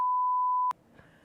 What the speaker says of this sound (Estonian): Sisutühi piiks.